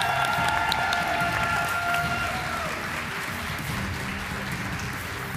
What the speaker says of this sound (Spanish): Aplauso, aplauso, aplauso.